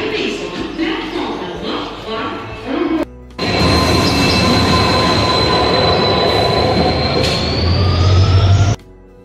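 A train at Barpeta Road railway station sounds loud and close, with rumbling wheels and then a long, sustained high-pitched squeal of wheels on the rails that stops abruptly.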